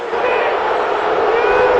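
A packed arena crowd roars steadily at a 2006 college basketball game between Tennessee Tech and Bradley, a loud, dense wash of voices that holds throughout.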